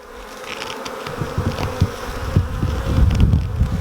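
Honey bees buzzing around a hive entrance during a two-frame colony split, a dense, steady swarm hum with individual insects droning close past, no voices.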